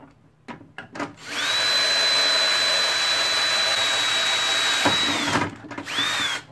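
A power drill bores holes into plastic for a dome skylight, a loud steady whine lasting several seconds after a few short knocks, then stopping and briefly restarting.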